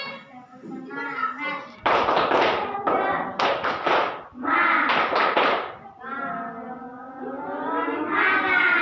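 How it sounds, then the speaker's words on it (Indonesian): Classroom students performing a rhythmic clapping routine, sharp bursts of claps in patterned groups mixed with chanted voices, close and lively. "Kita tepuk semangat dulu sebelum masuk pelajaran hari ini."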